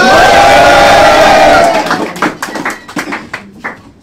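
A crowd cheers loudly with whoops and shouts, then the noise breaks into scattered clapping as the cheering fades.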